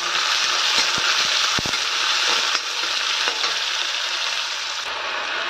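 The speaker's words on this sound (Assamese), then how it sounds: "ভাজি ল'ম এইখিনি মই ধুনীয়াকৈ" Onion, green chili and bay leaf fry in hot oil in a pan, giving a steady, loud sizzle with a few sharp crackles and pops near the start.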